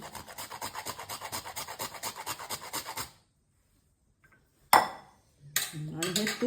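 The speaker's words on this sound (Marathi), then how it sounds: "हे जायफळ देखील थोडंसं मी आता किसून घालणार आहे" Nutmeg rubbed against a small grater, a quick rhythmic rasping of steady strokes, then quiet, followed by a sharp metallic clink and more kitchen clatter.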